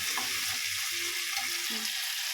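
Small potatoes frying with spices in oil, a soft continuous sizzle heard close with faint scattered stirring knocks, no voices.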